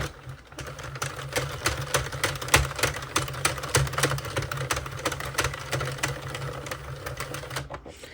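A Sentro knitting machine is cranked by hand, giving a steady run of quick, close plastic clicks and clacks in an even rhythm, fairly faint and free of talk.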